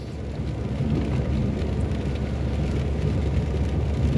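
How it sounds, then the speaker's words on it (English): Steady, dense rain hisses continuously, a broad even wash of sound with no voices, during a weather front in Cape Town suburbs. "we've had continuous rain now for a couple of hours"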